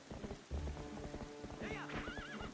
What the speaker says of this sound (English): Oh, it's raining. I forgot this game has weather.